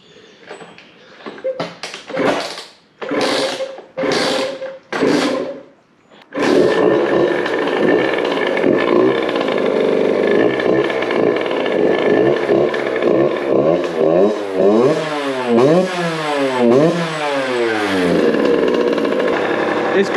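A Hm 50 CRE Six Compétition motorcycle, started with the choke on, fires up after a few loud kick-like bursts. It then settles into a steady idle and rises through repeated revs, with brief voices early on.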